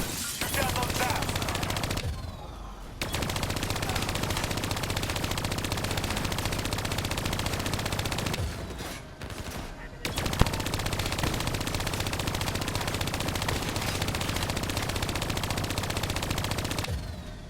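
Sustained automatic gunfire rattles on and on in Call of Duty: Black Ops 3, loud and close, with two short pauses between long continuous bursts. Voice lines come through faintly under the shooting.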